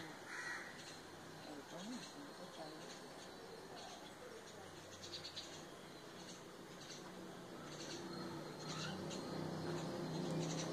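Crows caw near a house wall while birds feed, harsh calls rising above a steady outdoor background hum, with faint voices and household noise in the surroundings.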